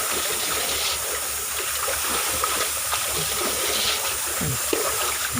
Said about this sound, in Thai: นี่เดี๋ยวก็ปล่อยน้ำทิ้ง